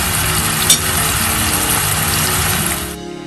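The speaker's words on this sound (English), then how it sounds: "So just make little batches and shallow fry it until it's almost cooked." Chicken pieces shallow frying in small batches in a pan give a loud, steady sizzle and crackle that runs unbroken, with one brief clink near the start, before cutting off abruptly near the end.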